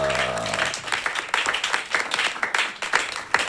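A studio audience at a live children's reality TV show applauds a category winner with steady, moderately loud clapping from many hands, continuing without pause and mostly free of talk.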